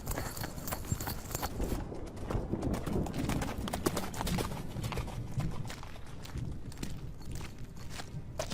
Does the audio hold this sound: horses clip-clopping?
yes